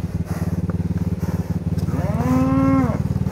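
A giant cow lets out one long, deep, drawn-out moo near the end, loud and close, over the steady chugging putter of a nearby idling motorbike engine.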